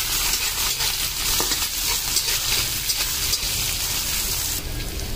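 Garlic and onion fry loudly in hot oil while being stirred, a dense continuous sizzle with scraping stir strokes, close and steady throughout with no talking.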